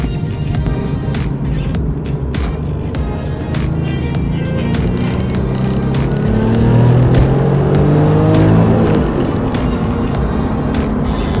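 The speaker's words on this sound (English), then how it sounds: "we're going to do a pretty hard acceleration with it" A Porsche 996 911 Turbo accelerates hard on a highway, its engine note rising steadily and growing louder through the run, with a continuous roar and rising harmonics inside the cabin.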